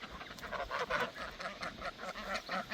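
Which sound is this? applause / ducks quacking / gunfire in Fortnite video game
ducks quacking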